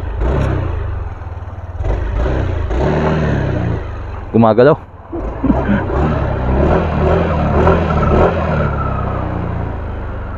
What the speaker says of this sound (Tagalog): So ito ang stock ng Sniper 155 na exhaust.